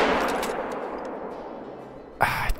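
A .300 Magnum rifle shot at a whitetail deer in Call of the Wild ends in a sharp, loud crack near the close. Before it comes a long fading rumble, likely the tail of an earlier shot.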